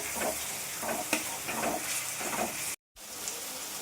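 Ginger garlic paste sizzles steadily in a hot pan while a spoon scrapes and stirs it in regular strokes, close and continuous, with a brief dropout near the end and no talking.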